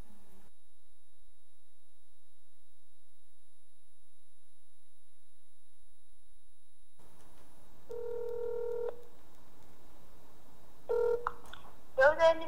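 Telephone keypad dialing tones beep in a few short, clean bursts after a long quiet stretch, followed by a louder cluster of tones near the end; no talk over them.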